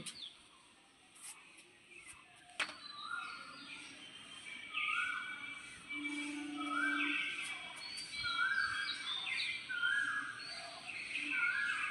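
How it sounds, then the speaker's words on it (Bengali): An Asian koel calls outdoors on a sunny spring morning: faint, distant rising whistled notes repeat over soft background ambience, with a sharp knock near the start and no speech. "কোকিলের ডাক শুনতে শুনতে"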